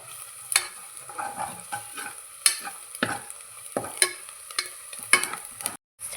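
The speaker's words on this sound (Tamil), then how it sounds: "சேர்த்துட்டு நல்லா மிக்ஸ் பண்ணி விடுங்க." Garam masala is stirred into veg biryani in a pan, with a soft sizzle underneath and a series of distinct spoon scrapes and taps about once a second, close and fairly quiet, with no voices.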